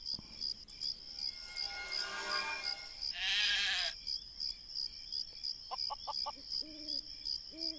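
A sheep in the game Craft The World gives a wavering bleat midway, with softer bleat-like calls near the end, over a steady chirping insect ambience and no talk.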